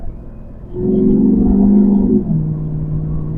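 A Chevrolet SSR pickup truck engine rises in a low droning hum as it accelerates on the road, heard from inside, rumbling steadily and then easing off.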